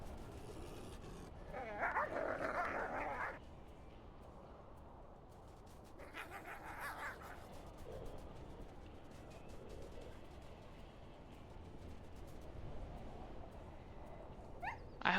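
Dog pups in a video game give faint yips, barks and whimpers over a low, steady background hum, with a couple of louder bursts early on.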